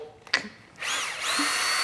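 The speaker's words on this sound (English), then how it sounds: "So we're just gonna drill the hole." A power drill bores a hole in a model airplane part, starting with a brief tap and chuck click before the motor whines up into a sustained, steady drilling hum that holds to the end.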